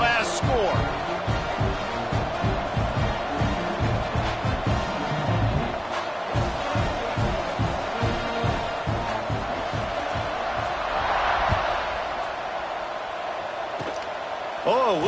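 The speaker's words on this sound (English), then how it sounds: "this crowd is buzzing after that last score" A stadium crowd in a video game football match keeps up a steady, dense buzz and roar throughout, while a commentator talks over it.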